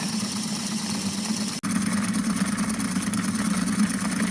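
A rock tumbler runs with a coarse load of quartz rocks, a steady loud motor hum with a constant churning rumble, briefly cutting out for an instant before carrying on.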